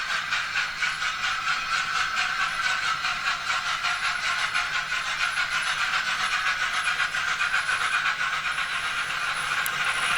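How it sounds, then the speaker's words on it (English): Model train running steadily round a short model railway layout, giving a continuous hissing, whirring mechanical sound with a faint rhythmic pulse, close and unbroken throughout. "which is why you tend to just let the trains run round and round"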